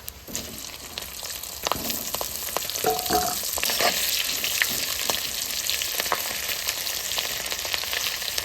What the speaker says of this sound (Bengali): ইলিশ মাছের মাথা ভাজা হয়ে গেছে